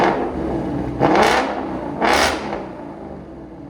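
A 2021 Ford Mustang GT with a 5.0L V8 and Corsa Xtreme cat-back exhaust with a double H-pipe gives two sharp throttle blips over a steady rumbling idle, close and loud.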